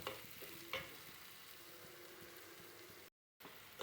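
Chopped onion, garlic and curry leaves frying in a pan for a Kerala long bean and raw plantain stir-fry, a steady close sizzle with a few stirring scrapes, cut by a brief silence near the end.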